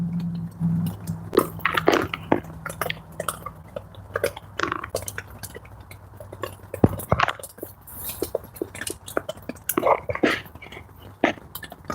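A puppy that is losing teeth chews steadily up close, with repeated wet bites, crunches and small clinks in an irregular rhythm, no talk.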